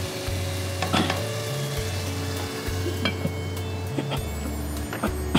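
Spice masala for a coconut duck bhuna sizzles and fries steadily in a pan, a continuous close crackle with occasional louder clinks and stirring scrapes, no voices over it.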